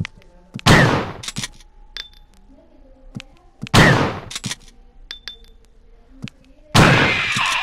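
Gunshots fired at a Hunter in Resident Evil 1, three loud, sharp blasts spaced a few seconds apart with metallic ringing tails and small clinks between them.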